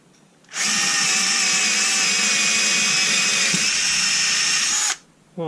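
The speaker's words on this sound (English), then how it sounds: "This is a 6mm drill bit." A Bosch 10.8V cordless drill/driver with a 6mm bit runs in one loud, continuous whine for about four seconds, starting and stopping abruptly, with no talk over it.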